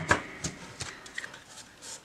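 Large, flexible oracle cards are shuffled by hand, giving a soft series of quick riffling flicks and papery slaps, faint and close.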